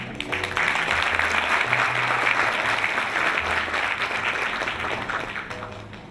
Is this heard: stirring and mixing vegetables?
no